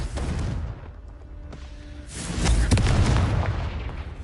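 A Confringo fire spell explodes in the Hogwarts Legacy video game: a few scattered pops lead into a loud, heavy boom that swells and rumbles on to the end.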